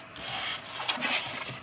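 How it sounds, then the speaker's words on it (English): Paper being burnished along the folded corners of a box envelope made from a single 12 x 12 sheet, a soft continuous dry rubbing and scraping close up, with slight swells in pressure and no talking. "we're going to go ahead and burnish the little ones"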